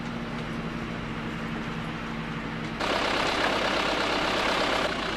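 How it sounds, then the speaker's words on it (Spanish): A tractor hauling a wooden water trough for livestock in the countryside: a continuous heavy engine rumble nearby that grows louder and fuller partway through, then holds steady with no speech. "el uso del tractor facilita el trabajo para trasladar el gamellón"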